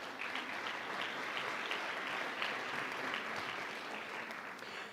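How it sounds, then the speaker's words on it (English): Steady, even applause from a large audience at the UN General Assembly high-level week, a continuous wash of clapping with no voices over it. "let's give that moment a round of applause"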